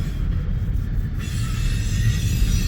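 A freight train rolls past on a rail line near Fremont, Nebraska, a loud, close, continuous low rumble of wheels and cars with a steady rolling roar and no talking.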